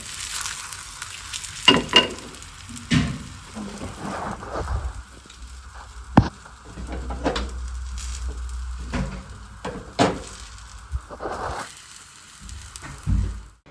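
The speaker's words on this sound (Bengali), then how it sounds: "আমি এখন আলু পরোটা ভাজা শুরু করেছি" Aloo paratha frying in a pan at home, a soft crackling sizzle with intermittent bursts and clatters of handling, fairly quiet and uneven across the stretch.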